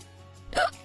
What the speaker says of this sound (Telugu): నీకు ఎక్కిళ్ళు వస్తాయి.